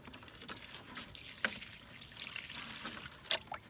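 Liquid treatment poured onto the soil around a peony plant, a soft steady trickle and splash lasting a few seconds, close and fairly quiet, with no talking.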